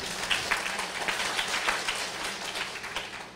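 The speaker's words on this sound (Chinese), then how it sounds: "大家鼓掌一下啦！" An audience bursts into steady, dense applause at a political preparatory meeting on public policy and budgets in Taiwan, the sharp claps blending into a continuous wash that stays fairly even for a few seconds.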